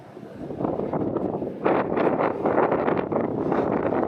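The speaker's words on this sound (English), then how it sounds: "But it is really windy." Strong wind buffets the open deck of an overnight cargo ferry crossing the Baltic Sea, roaring and gusting loudly against the microphone with no talk.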